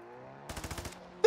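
Automatic gunfire in the video game DMZ, a quick burst of about seven rapid shots over a low hum, followed by a sharp louder noise at the end.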